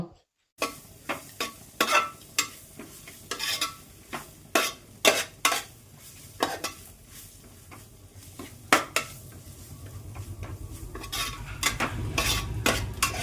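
Spice powders and green chilies sautéed in a pan for egg rice, stirred with repeated metallic scrapes and clanks of the spoon against the pan, with a rising sizzle toward the end.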